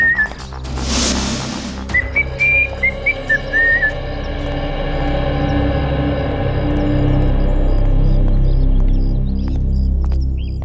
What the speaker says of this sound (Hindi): बड़े आराम से सीटी बजाते आ रहे हो।